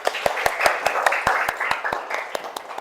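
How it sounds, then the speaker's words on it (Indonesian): A small group claps in quick, fairly regular beats, about a dozen sharp close hand claps over a few seconds, with faint voices underneath. "Oke, tepuk tangan."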